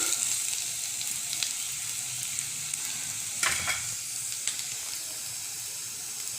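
Onion fries in a pan in a home kitchen, giving a steady close hiss and sizzle with a few brief scraping stirs and spatters, no voices over it.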